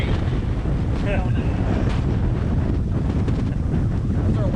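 Strong seaside wind at a Baja kiteboarding beach buffets the microphone in a constant low roar for the whole clip, with faint voices and water sounds buried beneath it.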